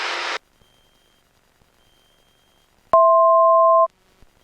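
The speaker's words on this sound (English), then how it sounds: "Is that ringing on yours or mine?" A brief burst of static, then quiet, followed by a single steady two-tone electronic ring lasting about a second, a phone ringing in a pilot's headset aboard a Cessna 172 in flight.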